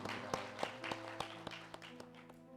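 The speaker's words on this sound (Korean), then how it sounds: "다시 한번 감사의 박수 올려드립니다." A church congregation claps in thanks, slow, evenly spaced claps in a steady beat that sound fairly distant in a reverberant hall over a low hum.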